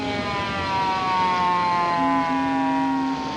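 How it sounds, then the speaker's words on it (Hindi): A siren wails on, its steady rising and falling tones sustained over a constant background hum, with no voices present. "सायरन बजाओ"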